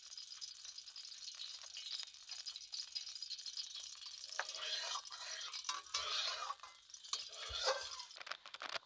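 Crab fries in hot oil in a wok, giving a faint, steady sizzle broken by scraping, clattering stirs that grow busier in the second half, without talk.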